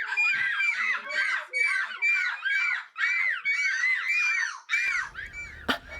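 A person imitates a seagull screech at a seagull-call competition, giving a run of loud, repeating gull-like squawks and cries in close succession, then a short burst of crowd noise near the end.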